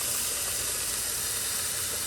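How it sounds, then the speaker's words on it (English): Steady, loud sizzling hiss of seasoned blackened chicken frying in a hot pan, continuous throughout with no talking. "listen to that sizzle."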